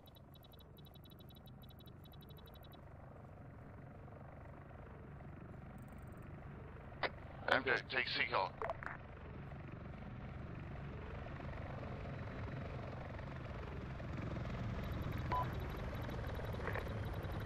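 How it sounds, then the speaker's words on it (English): Helicopter flying in the military game Arma 3, a steady rotor and engine drone that stays continuous throughout, with a short burst of clicking interface or weapon sounds midway and a brief spoken line. "There's already a chopper in the air."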